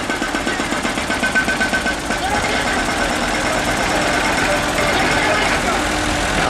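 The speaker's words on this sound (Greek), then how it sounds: "Η μπουλντόζα φορτώνει το φορτηγό χώμα." Loud, continuous heavy machinery rumbling and knocking nearby, a bulldozer's diesel engine churning with rhythmic pulses at first as it loads soil onto a truck, over which a voice speaks.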